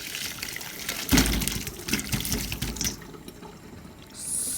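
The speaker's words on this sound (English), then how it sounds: "then I pour off that water" Water being poured off boiled pigstail in a kitchen, a splashing, running pour that rises abruptly, flows unevenly for a few seconds, then tapers to a thin trickle.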